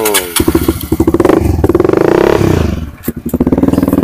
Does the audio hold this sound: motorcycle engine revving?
yes